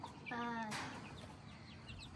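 A pet chicken that looks like a rooster gives a short cluck and a brief harmonic squawk near the start, then quieter chirpy calls over steady background noise.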